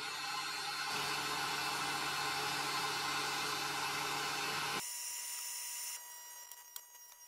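Electric clippers trim a standard poodle's coat with a steady, close, high-pitched motor buzz that cuts off abruptly partway through, leaving a fainter hum and a small clack.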